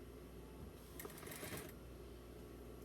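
A sewing machine runs in one brief burst of rapid stitching while sewing a doll romper, close and quiet, with a low background hum before and after.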